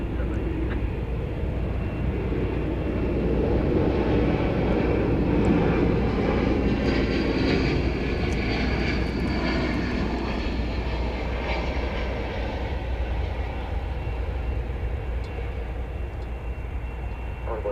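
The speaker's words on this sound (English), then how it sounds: "mid-runway departure from 18 left" Airplane taking off from runway 18 Left at DFW Airport, a loud continuous jet engine roar that swells and holds, with faint talk underneath.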